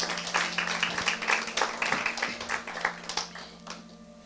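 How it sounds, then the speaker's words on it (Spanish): A church congregation breaks into scattered, irregular clapping under a low steady hum, individual claps fairly close and uneven in rhythm, fading toward the end. "Dele un aplauso al Señor si está entendiendo."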